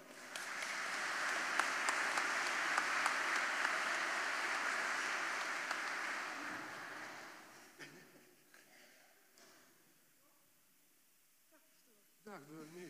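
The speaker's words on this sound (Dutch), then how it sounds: "Een extra applaus." A crowd at a carnival church service applauds the mayor, a dense sustained clapping that fills the first several seconds and then fades away, followed by quiet room sound and a voice beginning to speak.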